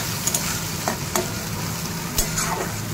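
Onion and tomato sizzle and fry in a kadai as the base for a fish curry, with a steady crackling hiss broken by a few sharp scraping stirs of a spatula. No one speaks.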